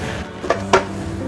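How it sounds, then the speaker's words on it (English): Whole apples drop into a heavy-duty commercial bar blender jar already holding ice cubes, giving two quick, hard thunks about a quarter second apart over a quiet, steady room background. "So I am going to put the apples as a whole."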